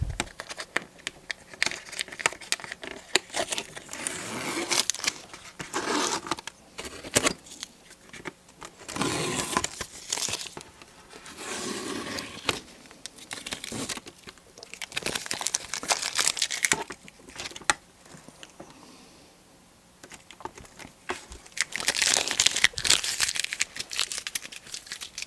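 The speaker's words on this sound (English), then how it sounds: "I'm going to peel off the tape and see how it looks" Masking tape peeled off a finished watercolor painting in a series of crackly tearing and crinkling strips, close and fairly quiet, coming in bursts with short pauses between pulls.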